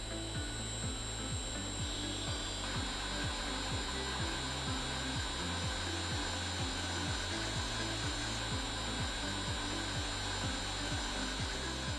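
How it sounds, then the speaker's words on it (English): A second pump motor starts up in a multipump pressure system run by Schneider ATV600 drives, producing a steady mechanical hum with a fast, regular rhythmic ticking pulse and a constant high whine, continuous and moderately quiet. "The second motor is starting."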